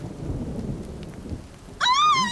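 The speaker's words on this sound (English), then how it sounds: "We'll wait here until the squall has blown over." A forest squall of thunderstorm with rain: a dense rush of rain and low rumbling thunder, then a loud sustained high tone bursts in near the end.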